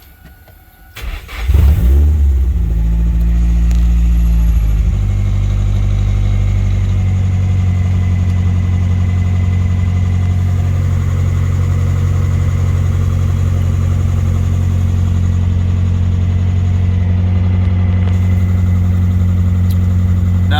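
A Nissan S14 with an SR20DET engine cranks and starts, then settles into a steady, loud idle around 1,400 RPM with a constant low hum that holds for the rest of the stretch.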